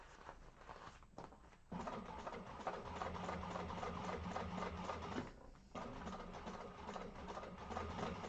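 Sewing machine stitching through a thick zipper bag with interfacing, a steady close mechanical whir with brief pauses and restarts, running alone without talk.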